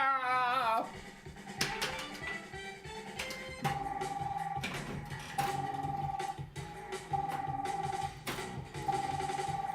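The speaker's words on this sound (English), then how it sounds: "calm down with this fucking phone ringing shit" A pinball video game telephone rings in repeated short electronic trills, spaced evenly, over busy machine sounds and a voice speaking.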